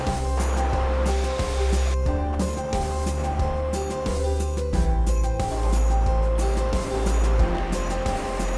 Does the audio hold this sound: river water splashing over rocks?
yes